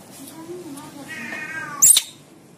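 A single drawn-out cat meow close by, with faint voices in the background and a brief sharp rustle right after.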